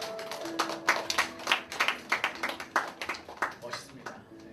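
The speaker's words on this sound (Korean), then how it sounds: "박수 한번 해주세요" An audience applauds at a university-group church worship service, a few seconds of crowd clapping with sharp overlapping claps at close to medium range.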